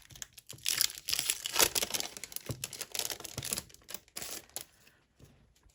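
Crinkly packaging crumples and tears close up as planner stickers are unwrapped, a run of irregular rustles and crackles, some loud, that thin out toward the end with brief quiet gaps.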